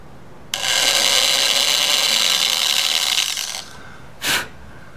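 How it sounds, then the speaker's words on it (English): Power drill boring into guitar wood, a steady grinding whir that runs for about three seconds and then stops, followed by one brief rough burst. "You're going to only drill down, you know, 2/3 the length of that screw."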